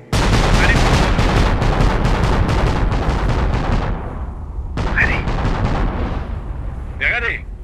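Sustained heavy gunfire and artillery-like booms fill a Company of Heroes Blitzkrieg Mod battle, loud and dense, with short pauses and a few distant voice barks over the din.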